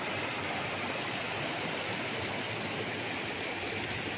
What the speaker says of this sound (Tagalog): tunog ng tubig na umaagos eh.